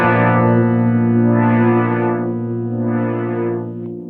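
Guitar loop run through a Hologram Microcosm pedal with its filter effect, a sustained distorted drone that swells open three times in slow, sweeping waves, loud and close with no talking.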